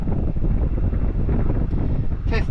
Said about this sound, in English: it's very windy. Is there any wind noise coming through the mic?